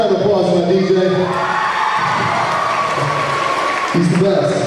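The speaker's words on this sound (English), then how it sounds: "Some round of applause for my DJ." A concert crowd cheers, whoops and applauds for a DJ, a loud, continuous roar with shouts rising over it, while a voice is heard over the noise.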